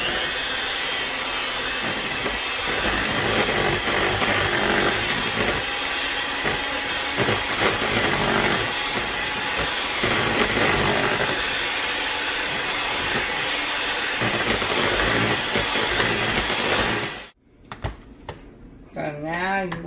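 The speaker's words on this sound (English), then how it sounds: "And continue to mix." An electric mixer whirs steadily through pineapple rum cake batter for a long stretch, with a harsh, hissy drone that cuts off abruptly near the end as talk begins.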